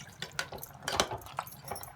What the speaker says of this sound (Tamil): இப்போ இதில் 1/2 டம்ளர் அளவு தண்ணி ஊற்றிக்கலாங்க.